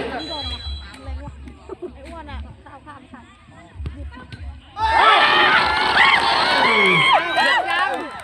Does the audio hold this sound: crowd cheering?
yes